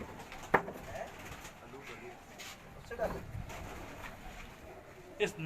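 Soft cooing of pigeons on a Karachi rooftop loft, a few quiet coos spread out alongside occasional sharp knocks, with someone talking over them.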